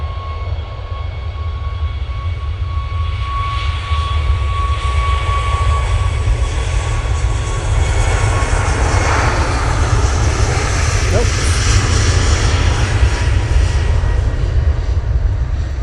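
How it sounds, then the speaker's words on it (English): Ryanair Boeing 737 MAX 8 jet departing Manchester Airport, a loud continuous engine roar with a rising whine, heard from nearby at the spotting area and steady throughout, with no talk over it. "First departure over here is a Ryanair 737 MAX 8."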